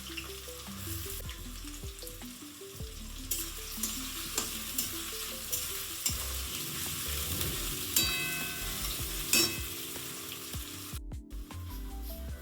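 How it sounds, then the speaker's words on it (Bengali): Onions fry in a pan with whole garam masala for ghughni, giving a steady sizzle with intermittent stirring clicks under soft background music. "পেঁয়াজগুলোকে একটু ভালো ভাজা করে নেবো।"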